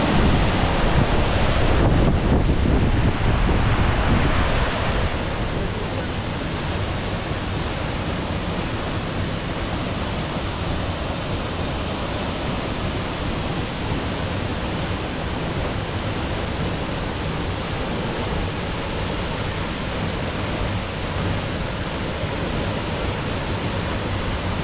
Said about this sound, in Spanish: El aire es impresionante en estas cascadas de Mexicalcingo de los Granados.